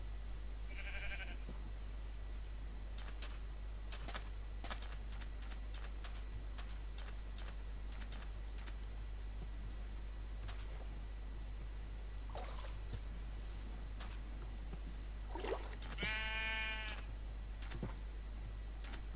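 Sheep bleating in Minecraft, a few short synthetic bleats spread across a long stretch with steady low hum and faint ticking clicks underneath, no talking.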